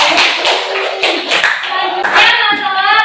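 A classroom of students clapping hands together in a dense, steady round of applause, loud and close, lasting a few seconds with a voice briefly audible.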